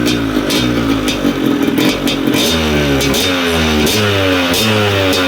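A Yamaha DT motorcycle engine revs repeatedly, loud and close, its pitch climbing and dropping in rhythmic bursts throughout.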